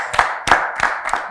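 An audience claps in a small gathering, giving four or five distinct, evenly spaced bursts of hand claps that sound fairly close and thin, as from only a few people.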